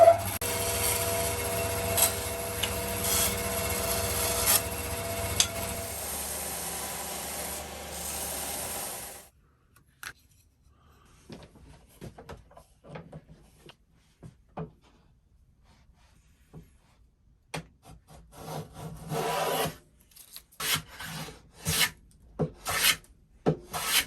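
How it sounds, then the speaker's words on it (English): Hand-cut dovetails being sawn and worked in wood for an alternating-grain chopping board box, with steady rasping strokes for about nine seconds, then quieter scattered scrapes and taps under no talk. "I'm just going to cut them out."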